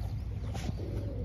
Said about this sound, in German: junge Taube